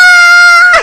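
A man imitates a rooster crowing during a church sermon, one loud, sustained, close-up vocal crow that bends and breaks off at the end.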